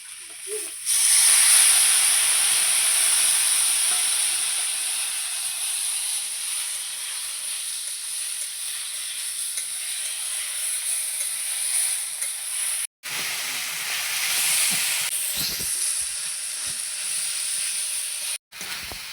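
Spice paste sizzling and hissing in a pot after water is poured in while cooking a soybean and potato curry, a loud, steady steam-like hiss that holds for the whole stretch with no talk.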